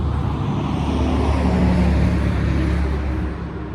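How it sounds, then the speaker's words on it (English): A Mack truck rolls by close and loud, its heavy engine rumble sustained for a few seconds before easing slightly as it moves off, with no talking. "We're gonna wait on this Mack truck."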